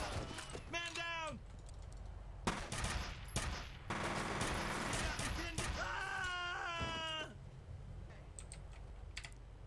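Video game F.E.A.R. combat: rapid bursts of automatic gunfire and impacts over game music and effects, with someone talking at intervals.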